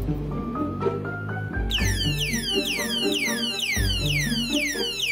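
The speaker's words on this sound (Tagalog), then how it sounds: "Tara, subukan natin sa motor habang naka-on ang alarm." A motorcycle anti-theft alarm blares loudly and continuously, first as a rising run of stepped beeping tones, then switching to rapid repeating chirping sweeps that fill the rest of the stretch.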